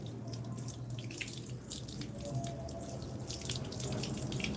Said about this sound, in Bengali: হাত ধুতে হবে প্রথমে কি ডান হাতটা ধুতে হবে